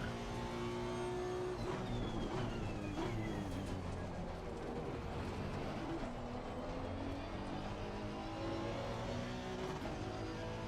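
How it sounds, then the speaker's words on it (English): Race car engine in a racing game at Red Bull Ring and Zolder, droning loud and steady throughout, with rising and falling harmonics as it revs up against the limiter amid continuous mechanical noise. "I hit the rev limiter there"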